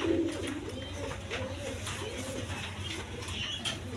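A pair of Danish pigeons coo in low, repeated throaty phrases, close by over a steady background hum with faint noise around them.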